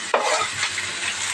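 Chopped vegetables tipped into a hot pan of spiced masala idli fry, a brief clatter followed by a steady loud sizzle with light stirring.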